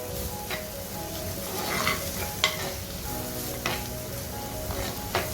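Spicy fish molee masala sautéing in a pan, a steady sizzle with irregular spatula scrapes and stirring sounds, some stronger strokes standing out at intervals.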